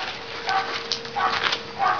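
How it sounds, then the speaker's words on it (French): Golden retriever cross puppies give short high yips and whimpers in quick bursts, close and fairly loud against a steady background hiss. "On a ici 4 magnifiques chiots,"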